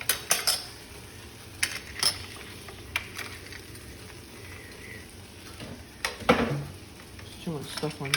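Onion goes into a hot pan for pad thai and frying crackles softly beneath sharp clanks of a utensil on metal, with voices briefly heard nearby.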